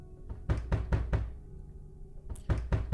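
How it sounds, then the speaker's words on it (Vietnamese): Loud knocking on a bedroom door, coming in two forceful bursts of about four heavy thuds each, separated by a short pause, close and alone. "nghe tiếng đập cửa rầm rầm"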